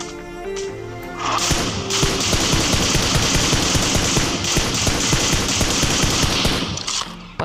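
Rapid automatic rifle fire in PUBG Mobile, an M4 spraying a long, loud, continuous burst of shots that runs for several seconds, then a few trailing clicks and thuds.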